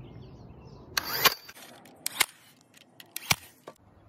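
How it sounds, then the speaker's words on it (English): A brad nailer tacks together the corners of a cedar planter box, giving a few sharp, quiet snapping shots spaced about a second apart against a faint background. "take that brad nailer and then just tack the corners together just to hold it together"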